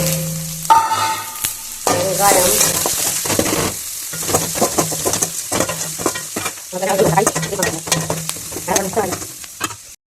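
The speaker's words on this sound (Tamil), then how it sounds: "இந்த மாதிரி வெங்காயம் வதக்கிறதுக்கு கொஞ்சமாக எண்ணெய் போட்டுக்கிட்டேன்." Onions fry with chana dal in a little oil, a loud close sizzle and crackle broken by repeated scraping and clattering of a spatula stirring in the pan.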